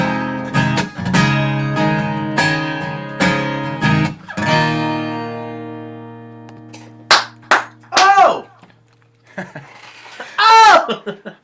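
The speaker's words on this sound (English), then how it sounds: "I love your encouraging claps" Audience at a live country-style music show laughing and clapping in short bursts between sung phrases, applause close and lively, with chuckles and a voice around it.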